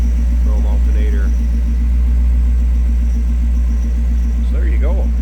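A 1932 Ford Roadster street rod with a 350 V8, chrome headers and a chrome alternator idles smoothly in a steady, close, low rumble that holds throughout, with faint voices in the background.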